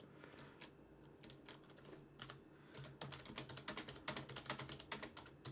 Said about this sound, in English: Sorry, my keyboard is so loud.